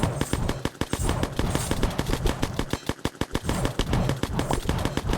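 Rapid, continuous gunfire in the video game Necesse, a dense rattling stream of loud shots with a driving rhythm throughout, alone with no talk.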